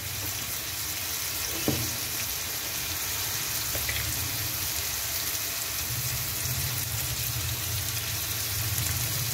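Fish roe seasoned with salt and turmeric fries in a pan, a steady close sizzle running the whole time with a couple of faint stir clicks.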